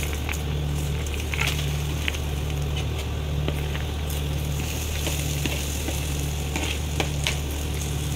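Ivy gourd fry with garlic being mixed in a pan makes a steady close sizzle, with irregular scraping stir strokes over a low constant hum, and no voices.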